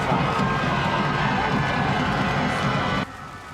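A large crowd cheers and roars continuously at an American football championship game, the CEFL Bowl between the Calanda Broncos and Thonon Black Panthers, as the home team takes the field; loud and sustained, then dropping sharply near the end.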